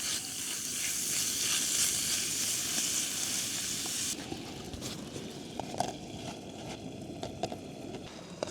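Steak and butter sizzle in a preheated pan at a desert campsite, a soft steady hiss that drops to quieter crackles midway, with light handling clatter.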